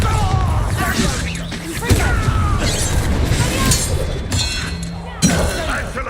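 A Bombarda spell in Hogwarts Legacy goes off in blasts of shattering, crashing impact mixed with game effects, loud and dense, with sharper hits near two and five seconds.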